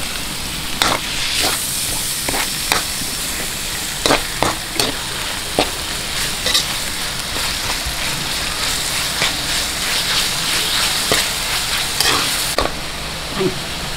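Onion and chicken stir-fried in a pan for pancit canton, giving a constant close sizzle broken by sharp, irregular spatula clicks and scrapes against the pan.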